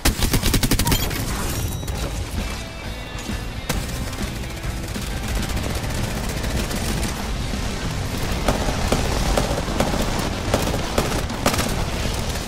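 Gunfire in the battle royale game Apex Legends: dense, rapid automatic bursts and overlapping shots rattle without pause, loud and close, with occasional heavier booms mixed in.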